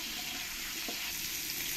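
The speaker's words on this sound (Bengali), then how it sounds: "এবার আমি এই তেলের মধ্যে এই আলুগুলো একটু ভেজে নেব" Potatoes seasoned with salt and turmeric hiss and sizzle in hot oil, a steady close frying sound with light stirring scrapes, no voices.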